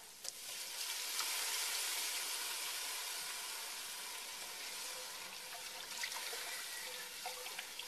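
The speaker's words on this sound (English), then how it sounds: "I'm going to slowly add my beef broth" Beef broth hits a hot pan of flour-coated oxtail for soup, giving a loud, steady hissing sizzle mixed with a watery pour throughout.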